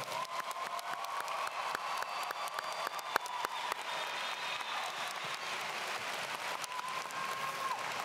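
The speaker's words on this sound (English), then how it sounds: "go ahead, give yourselves a round of applause" High school graduating class of 2019 applauding themselves at their commencement ceremony, a fairly distant, steady wash of many hands clapping that holds evenly throughout.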